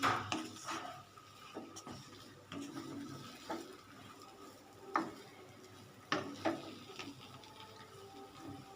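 Suji upma stirred in a cooking pan: quiet, scattered scraping and clicking taps of a spoon against the pan, irregular and close, with soft background hiss between strokes.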